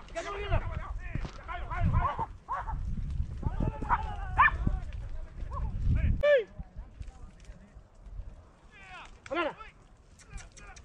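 Several hunting dogs bark in sharp, repeated bursts during a rabbit hunt in sand dunes, some barks close and loud, others thinner and farther off, with pauses between volleys and a few people talking.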